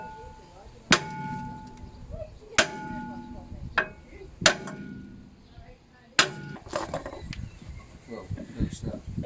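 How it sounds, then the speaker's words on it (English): A hammer strikes the rear brake disc of a 2007 Ford Focus 1.8 TDCi between the wheel studs, four or five sharp metallic clangs spaced a second or two apart, close and loud, with faint rattling after each blow. "I'm basically just going to whack it with a hammer."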